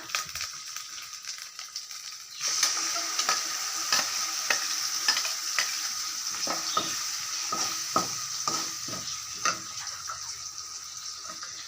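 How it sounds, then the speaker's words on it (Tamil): Ground masala paste with ginger-garlic paste sautéing in a hot pan, a constant bright sizzle punctuated by regular ladle scrapes and stirring clatter, close and without speech. "இதை வந்து நல்லா கொஞ்சம் வதக்கி கிண்டிக்கலாம்."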